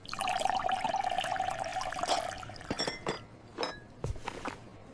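Water pours steadily into a glass for about two seconds with a rising ringing tone, then the glass gives several light clinks and drips as it is set down, close and clear with no talk.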